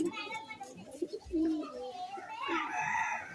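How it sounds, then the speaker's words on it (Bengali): Giribaz pigeons brought from Benares give soft, low cooing calls close by. People talk over and between the coos, and children's voices are also present. "দারুণ পায়রা"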